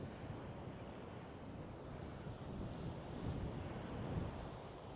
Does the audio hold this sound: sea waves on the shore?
yes